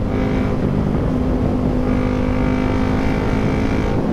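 A Yamaha Sniper 155R motorcycle engine drones steadily while riding, a continuous close hum with wind noise and a slight pitch shift partway through, no talking.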